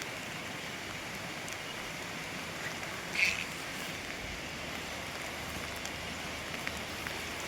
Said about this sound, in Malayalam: ഇപ്പോഴും മഴ പെയ്തുകൊണ്ടിരിക്കുകയാണ്.